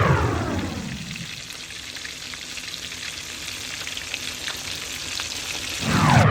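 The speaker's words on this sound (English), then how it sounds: "we'll let those fry" Breaded pork cutlets for pork Milanese fry in hot oil with a loud, steady, close sizzle that fills the whole stretch and swells slightly near the end.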